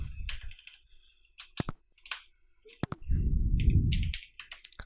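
Typing on a computer keyboard while working in an MS Excel stock sheet: scattered sharp key clicks in short bursts with pauses, plus a louder thump-like stretch near the end, close up and without speech.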